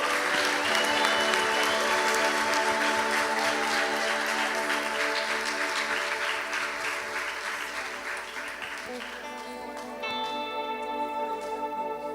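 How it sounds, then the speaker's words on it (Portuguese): A church congregation claps loudly in praise of Jesus at the close of a sermon. The applause is thick and sustained, with sustained musical tones underneath, and it eases slightly toward the end. "Aplauda Jesus bem forte"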